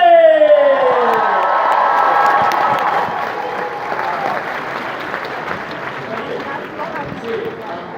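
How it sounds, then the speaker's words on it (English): A large crowd at a film premiere at the Odeon Cinema in London breaks into loud applause and cheering, with whoops and shouts, gradually settling but still clapping throughout. "Please make some noise for the extremely talented Mr. James Bowley!"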